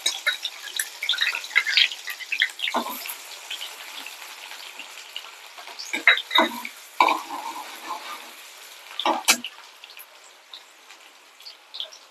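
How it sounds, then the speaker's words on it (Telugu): Sliced onion hitting hot oil and frying, a bright close sizzle that spikes in bursts as pieces are stirred and scraped, then settles to a softer crackle without talk. "నూనె వేడైందండి, ఉల్లిగడ్డ వేద్దాం."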